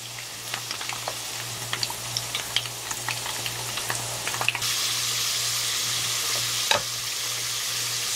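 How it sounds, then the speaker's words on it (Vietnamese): Potatoes frying in about a third of a cup of oil in a pan, a steady close sizzle with frequent stirring scrapes and clinks that swells louder partway through. "Cho vào chảo khoảng 1/3 chén dầu và mình cho khoai vào chiên"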